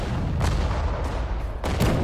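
Cannon fire in the World War II strategy game Sudden Strike 4, a heavy continuous rumble of booms with several sharper blasts standing out, loud and close, with no talk over it.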